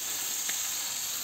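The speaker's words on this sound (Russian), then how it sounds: "И вот это я первый раз рыбу жарю на ней." Fish fry in a homemade pan with a steady, close sizzle and hiss, no talking.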